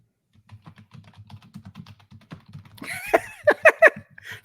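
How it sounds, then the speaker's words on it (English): Fast computer-keyboard typing patters in a quick, steady stream of close clicks, then a few louder, sharper keystrokes toward the end. "Furiously typing."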